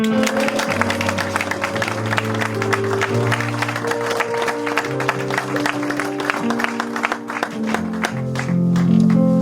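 A church congregation claps in a steady, rhythmic beat to praise the Lord, with loud sustained organ or keyboard chords playing throughout.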